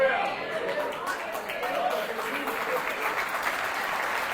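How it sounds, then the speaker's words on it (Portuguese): A church congregation applauds, with dense clapping that fades from loud to moderate and soft murmuring voices mixed in. "Eu não gosto assim dessas palmas assim, não, irmão."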